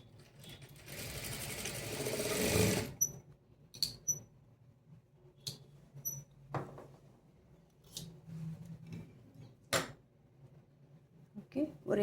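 A sewing machine stitches a fabric strip for a blouse in a loud burst at the start, followed by quieter clicks, handling sounds and brief mechanical snips.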